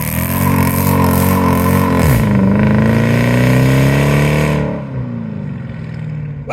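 Dodge Charger ute pickup conversion revving hard while lighting up its tires, a loud, close, sustained engine roar that rises in pitch then drops as the throttle eases, trailing into a quieter rumble, no talking.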